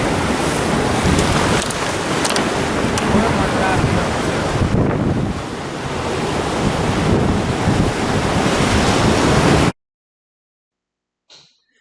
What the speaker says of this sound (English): The deafening roar of the ocean is in the background